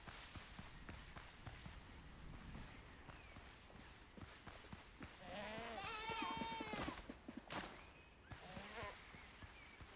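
Goats bleating in a group, several wavering cries overlapping near the middle, with shuffling footsteps and general outdoor noise around them.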